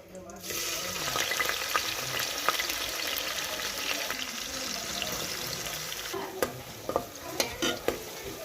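Onions frying in hot oil inside a pressure cooker for mutton gravy, a steady loud sizzle from start to finish with a few sharp crackles and pops near the end.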